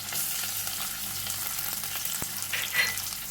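Garlic, onion, curry leaves and pandan leaves frying in oil for a bitter gourd stir fry, a steady crackling sizzle close by, a single sharp tap of a utensil and brief spits toward the end, no speech.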